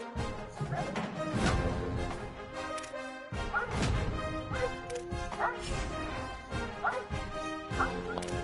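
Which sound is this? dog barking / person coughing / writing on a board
dog barking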